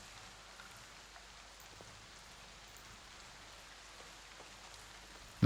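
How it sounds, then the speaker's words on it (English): Rain falls in a steady, faint, even hiss with occasional soft droplet ticks, continuous and without other sounds. "The rain is coming down hard."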